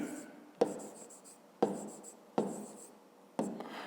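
A pen writes on paper during a Ukrainian 5th-grade math exercise, four distinct scratchy bursts of strokes close up, each starting sharply and trailing off, with quiet pauses between.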